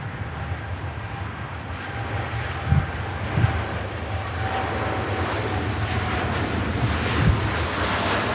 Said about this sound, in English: it's pretty blustery here actually this morning